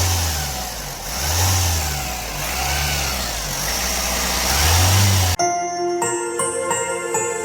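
An Opel Insignia 1.6 turbo diesel engine with a burst turbo pipe revs hard in repeated bursts, rising and falling loudly, then settles into a rougher idle with a faint metallic jingle.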